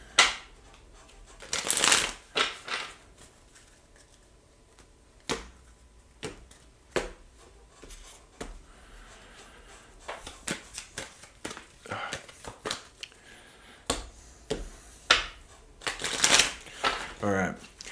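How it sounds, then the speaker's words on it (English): Tarot cards are shuffled in several quick riffling bursts, with softer handling clicks and taps between them. "Just going to do a quick shuffle, thank you."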